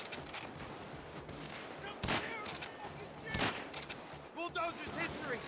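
Rapid gunfire with explosive ammo in Payday 2 video game, a dense stream of shots punctuated by a few louder bursts, with voices talking over the action.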